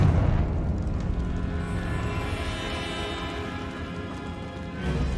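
A Confringo blasting spell explodes in the video game Hogwarts Legacy. It sounds like a loud, deep boom that rumbles and fades slowly over several seconds, then swells slightly again at the end.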